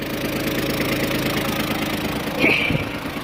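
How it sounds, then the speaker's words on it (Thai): An Iseki TM17 tractor engine idles steadily and loudly close by with the PTO shaft turning, a continuous low rumble with a brief clatter and knock partway through. "นี่ PTO ก็จะหมุนกลับฝั่งกันแล้ว นะครับประมาณนี้ไม่มีรั่วซึมนะ"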